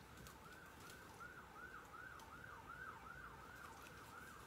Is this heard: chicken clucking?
no